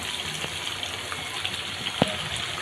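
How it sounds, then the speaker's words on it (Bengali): Water is poured into a pot of cooking meat curry as a steady, continuous splashing gush, near and fairly loud, with no voices. "এবার দিয়ে দিচ্ছি জল। জল খুব একটা বেশি দেব না, সামান্য জল দিলাম।"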